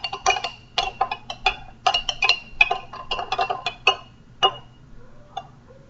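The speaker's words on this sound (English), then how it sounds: "I'm going to stir with a spoon." A metal spoon stirs oil and water inside a glass food jar, giving a quick run of light, bright clinks and taps in an uneven rhythm, close by and fairly clear, with no voices.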